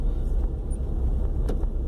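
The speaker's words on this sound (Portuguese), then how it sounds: "Final de tarde sempre tem aquele trânsito básico." Late-afternoon road traffic, a steady low rumble of passing cars with no distinct individual vehicles standing out.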